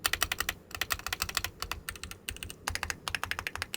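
Rapid, continuous typing on a heavy Keychron Q6 Limited Edition mechanical keyboard, dense bursts of crisp close-up key clacks with brief pauses, heard alone without talk.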